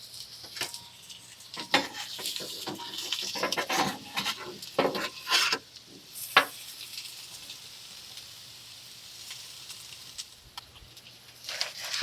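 Onions and peppers sizzle on a Masterbuilt Gravity Series griddle beside bacon grease, a low, even hiss broken by sharp spatula scrapes and taps that come in bursts, then quieter stretches.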